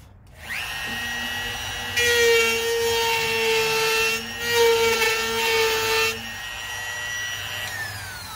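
A power tool whines steadily as it trims the bottom off a plastic aquarium overflow part, the pitch dipping and rising under load as the cut proceeds, close and continuous with brief surges and a spin-down at the end.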